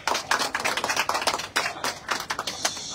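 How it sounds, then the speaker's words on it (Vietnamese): A small audience on a tourist boat on the Nho Quế River, Hà Giang, claps for a boat singer, a brisk burst of hand clapping from several people, close and lively with slight tapering. "xin một tràng vỗ tay cho A Cơ đi"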